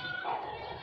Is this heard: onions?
no